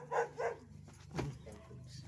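A dog barks a few times at close range in a home: two quick barks, then a short pause and one more bark, with a faint voice nearby.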